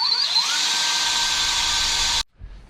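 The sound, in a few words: screwing a wall mount bracket on with a power drill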